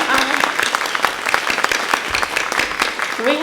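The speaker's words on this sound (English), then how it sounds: "Can we give a round of applause to Kristen and Jennifer as well?" Applause rises from the audience at a county teacher of the year ceremony, loud and close, with individual sharp claps and some voices and cheers mixed in.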